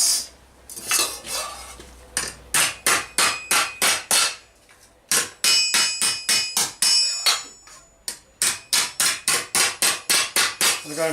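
A flatter hammer strikes a heated steel plate while medieval armour is shaped with triangular edges. The close, ringing metallic blows come in fast, regular bursts separated by short pauses, and no voices are heard.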